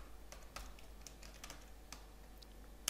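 Soft, quick keystrokes on a computer keyboard while VBA code is typed for Excel, faint and close, in an irregular patter with one sharper click at the end and no speech.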